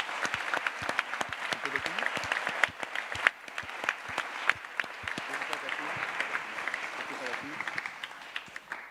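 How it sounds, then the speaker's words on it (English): Conference audience applauding at the ISMIR 2018 closing session in Delft, a sustained round of many hands clapping at moderate volume with a voice talking over part of it. "So give a round of applause to Jimena, Fabien, and Arcia."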